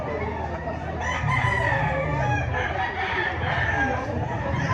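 Chickens crowing and clucking continuously in a busy, noisy chicken market in Lipa, Batangas, several birds overlapping at close range with a dense background murmur.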